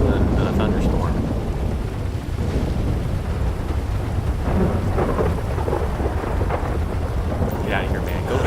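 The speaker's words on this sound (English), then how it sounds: "why you're driving a motorcycle in a thunderstorm" Steady heavy video-game rain with rumbling thunder and wind roaring continuously during a GTA V thunderstorm, dense and loud throughout, with no clear breaks.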